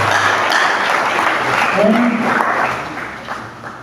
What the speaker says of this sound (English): You can clap again for him.